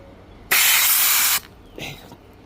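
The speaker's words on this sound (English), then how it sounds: "we're just blowing all the gunk that's in there with compressed air" Compressed air blasts through a Kawasaki ZX14 motorcycle fuel filter, one loud close hiss lasting just under a second, then a shorter, fainter puff.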